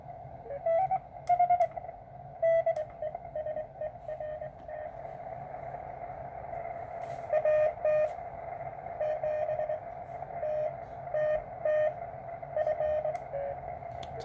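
Morse code CW signals tuned on the 40 m ham band through a converted MTR3b QRP CW transceiver, heard as steady sidetone beeps in short keyed bursts over a constant hiss of band noise, with no talk.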